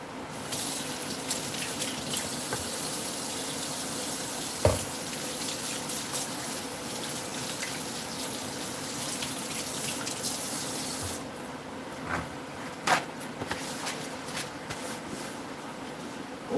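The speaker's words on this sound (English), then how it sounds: "I'm gonna go wash my hands." A tap runs steadily into a sink during handwashing, a constant close rush of water with occasional knocks and splashes.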